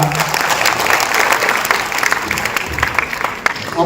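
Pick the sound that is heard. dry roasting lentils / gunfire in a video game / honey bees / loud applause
loud applause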